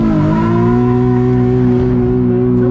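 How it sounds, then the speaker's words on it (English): A car engine held at high revs during drifting practice, a loud, close, sustained droning tone whose pitch dips slightly early on and then holds steady, with no talking. "Rev it up."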